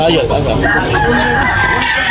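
A rooster crows loudly and close at an outdoor chicken sale, with clucking fowl around and people talking in the background.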